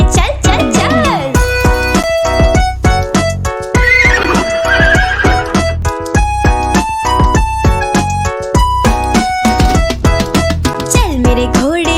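A horse neighs and whinnies repeatedly within a bouncy Hindi children's rhyme, the animal calls sitting over steady, loud sung music.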